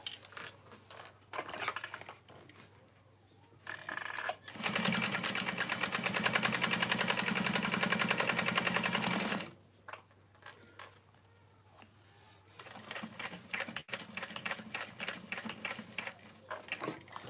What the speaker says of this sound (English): I'll just top stitch down the sides to hold the card slots in place.